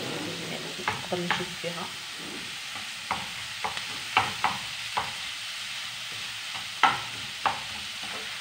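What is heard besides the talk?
minced kefta being spread and stirred in a frying pan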